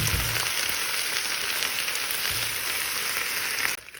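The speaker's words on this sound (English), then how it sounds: "Now I'm going to put them in the sage butter sauce." Fried sage leaves go into a sage butter sauce, giving a steady, bright sizzle throughout that cuts off abruptly near the end, with no voices.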